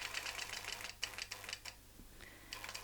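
A sewing machine stitches a longarm tray in short, quiet bursts of rapid clatter, broken by brief pauses.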